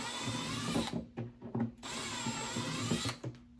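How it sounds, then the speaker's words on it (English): A cordless power drill bores holes while mounting a Milwaukee PACKOUT bracket, running in two sustained, close, whining bursts with brief pauses between, loud and alone. "Drill my last two holes on that side"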